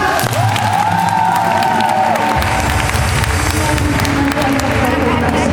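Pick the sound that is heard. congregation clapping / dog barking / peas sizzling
congregation clapping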